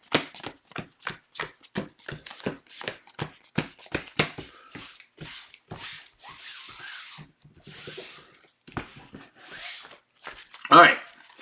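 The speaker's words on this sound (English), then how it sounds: "this is how I shuffle so I don't break my cards and my sleeves" Sleeved cards from a Marvel card game, Ms. Marvel, are shuffled by hand, giving a quick series of crisp rubbing and sliding bursts, then a few slower ones and a final louder riffle.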